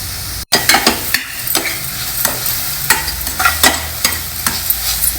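Crushed garlic, ginger and green chilies frying in hot oil with browned onions for dal. A loud, steady sizzle runs throughout, with rhythmic spatula scrapes and stirring strokes every half second or so, close up and without talk.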